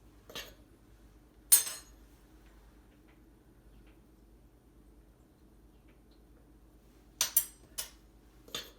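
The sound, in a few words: measuring cup used three times while measuring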